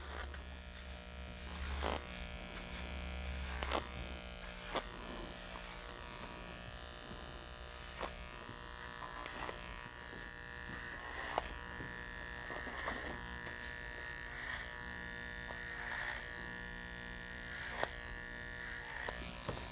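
Electric shaver buzzing steadily close by as it removes hair from the top of a head, a continuous low drone with small clicks and shifts in pitch as it moves across the scalp.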